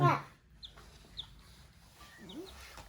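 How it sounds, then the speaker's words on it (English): A few soft clucks and short chirpy calls from chickens, scattered and fairly quiet, after a brief louder burst at the start. "We got some chickens."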